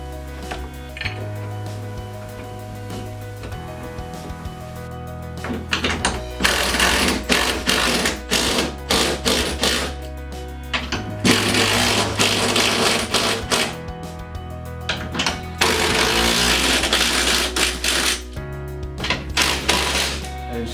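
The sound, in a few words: drill driving screws to mount a grab bar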